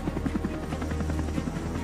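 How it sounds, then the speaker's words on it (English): A naval group's helicopter flies nearby, its rotor chopping in a rapid, steady pulse over a continuous low engine drone. "The group's helicopters go into action whenever technical staff, medical supplies, munitions or provisions have to be exchanged between vessels."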